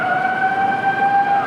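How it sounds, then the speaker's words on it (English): A steady wailing tsunami warning siren in Japan after the 2011 earthquake drones continuously, its pitch holding level, heard from a distance over faint background noise. "You hear sirens. You hear it sounds like tsunami warnings."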